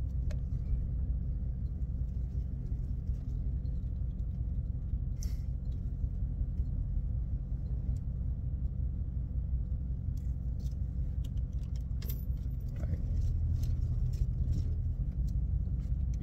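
A 500 horsepower Dodge Charger Scat Pack cruises in sport mode, heard from inside as a continuous deep, low engine rumble with road noise, steady and fairly quiet, with a few faint clicks and rustles.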